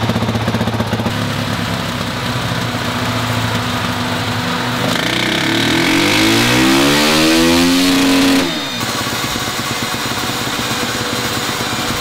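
Motorcycle engine with a budget Lidl aftermarket exhaust revving hard on a dyno in a workshop on the third map, a loud steady drone that sweeps up in pitch to a peak and then cuts off sharply, with no talk.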